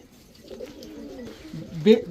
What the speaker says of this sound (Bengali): ফুল ঝোপ্পা মুজাওয়ালা আফসান বাঘা মাদি কবুতর